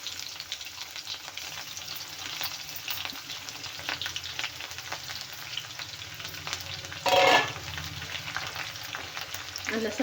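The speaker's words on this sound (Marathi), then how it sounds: "हे बघा जिरे आणि मोहरी तडतडले आता आपण घालूया लसण" Crushed garlic goes into hot oil where mustard seeds and cumin have already crackled, giving a continuous close sizzle and fry with occasional stirring scrapes and a brief louder burst partway through, no voices.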